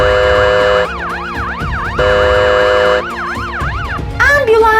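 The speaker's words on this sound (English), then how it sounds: "Police car here." A toy police car siren wails loud and close, a rising-and-falling electronic tone that repeats in steady cycles, switching pattern briefly near the end.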